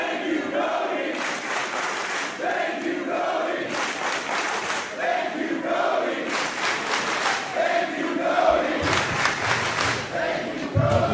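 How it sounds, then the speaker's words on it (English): A wrestling crowd in Westbrook at a Limitless Wrestling show roars, cheers and shouts steadily after a match, with bursts of louder yelling rising over a dense, sustained wall of voices. "And this crowd here in Westbrook is letting them both hear it."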